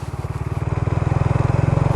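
A Honda ADV 160 motorcycle on an off-road trail gives a loud, close engine drone with a steady, rapid pulsing beat that grows slightly stronger as it rides on, with no talking.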